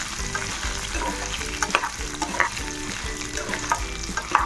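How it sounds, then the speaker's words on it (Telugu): Dry red chillies, coriander seeds and cumin fry in oil for Guntur karam podi, giving a steady close sizzle broken by scraping stirs and small crackles throughout, with no voices. "ఎండుమిర్చి కూడా వీటితో పాటు మంచిగా వేగనివ్వాలి. ధనియాలు, జీలకర్ర త్వరగా వేగిపోతాయి"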